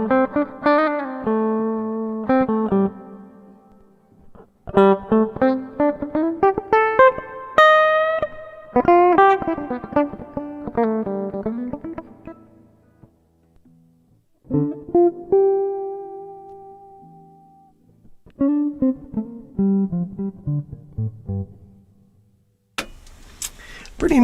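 Heritage H550 electric guitar with a Seymour Duncan Antiquity pickup, played plugged in as clean melodic notes and chords in phrases with short pauses, close and fairly loud, with no talking.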